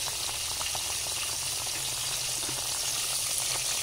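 Vinegar and coconut milk fish stew with carp bubbling in a pot, a steady close hiss of simmering with soft popping bubbles throughout, no talking.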